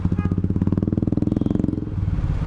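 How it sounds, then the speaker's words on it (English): A 2018 Harley-Davidson Fat Bob is ridden, its V-twin engine giving off a rapid, steady, throbbing pulse. The close, thumping beat stays even across the clip, then eases into a lower rumble. "First time in my life I am riding a Harley Davidson with such a handlebar"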